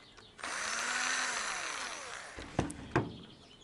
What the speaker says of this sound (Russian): Кому-то может не нравится, что я шуруповертом работаю.